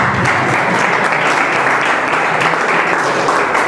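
A live audience applauds after a Hindi poetry recital, a dense, steady wash of clapping that holds loud and even for its whole length, with no voices over it.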